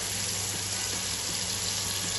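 Cooked macaroni for a cheesy baked dish poured into a strainer, a steady rushing hiss of water draining continuously and fairly close, with no talking.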